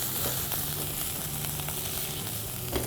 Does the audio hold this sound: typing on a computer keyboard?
no